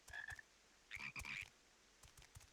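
Frogs croak in the video game Final Fantasy XIV, with a few quick bursts of throaty, ratcheting croaks close by over a faint ambient background, and no speech.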